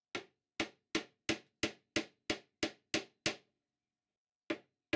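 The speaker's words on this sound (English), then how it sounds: "I'm using this excellent nylon-faced hammer." Nylon-faced Teng Tools hammer tapping bushes into a boiler of a 5-inch gauge GWR 14XX steam locomotive model: ten sharp, even knocks in a steady rhythm, a pause, then two more, close and clear with no talk.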